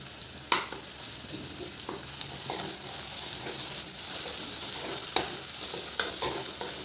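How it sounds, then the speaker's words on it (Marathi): Asafoetida dropped into hot oil beside cooking vegetables for a Maharashtrian sprouted moth bean usal, giving a steady soft sizzle with scattered sharp clicks of a spoon stirring in the pan. "आता इथे मी थोडंसं हिंग टाकते तेलामध्ये"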